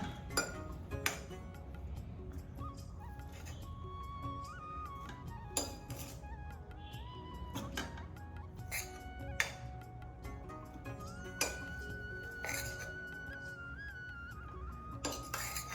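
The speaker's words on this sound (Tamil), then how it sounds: "ரைஸ் வந்துட்டு கிளறும் போது இந்த மாதிரி கரண்டி எடுத்துக்கிட்டிங்கன்னா சாதம் வந்து குழையாது" A metal ladle stirs cooked lemon rice in a pot, clinking and scraping against the sides in irregular taps and clanks, close and fairly quiet, with no talk.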